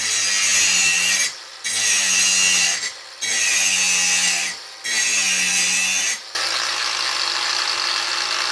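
A cordless brushless 4-1/2 inch angle grinder cuts into a welded steel plate. Four long, harsh cutting bursts come up close, each separated by a brief dip, and a steady motor whine carries on at the end.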